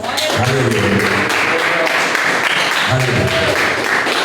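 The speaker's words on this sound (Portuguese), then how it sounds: "Se quiserem, podem aplaudir ao Senhor" A church congregation applauds in steady, continuous clapping, with voices sounding over the clapping throughout.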